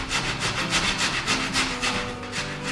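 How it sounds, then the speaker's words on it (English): A fresh tomato is grated by hand against a grater, skin held back, making steady rhythmic rasping strokes, close and fairly loud, about two per second, with no talking. "So we'll take the green part out and we'll grate it exactly the same way"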